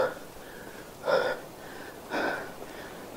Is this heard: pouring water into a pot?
no